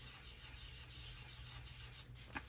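Soft, steady rubbing of a cosmetic ground against a stick of chalk, a faint continuous scratchy swish that runs without a break and ends with a small tap.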